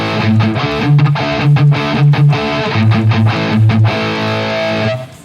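An electric guitar, a Schecter Banshee 6, plays a choppy, distorted rhythmic riff through a Bugera G5 Infinium amp into a Marshall 1960 vintage cabinet with the morph knob set to USA, loud and close.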